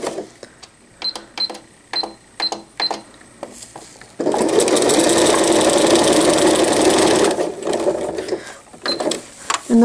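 A sewing machine with a walking foot stitches around a diaper cover with cased elastic, first in short stop-start bursts, then a steady loud run of rapid needle chatter lasting several seconds before slowing back to short bursts.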